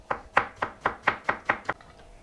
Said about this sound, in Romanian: Iau ceapa și o tocăm mărunt.